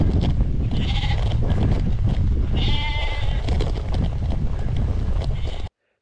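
Sheep bleating in a wet, open Scottish field by a loch, several calls rising over steady wind noise and rustling, close and fairly loud.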